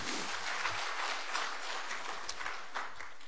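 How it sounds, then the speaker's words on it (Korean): A church audience applauds during a sermon, a steady, dense wash of clapping that holds evenly throughout with a few sharper claps near the end. "박수 한번 보내줍시다"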